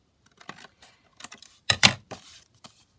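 Scissors snip through paper to trim a folded pocket foldout, heard as a handful of short, close, crisp cuts spaced irregularly, with a louder double snip in the middle and quiet gaps between, and no talking.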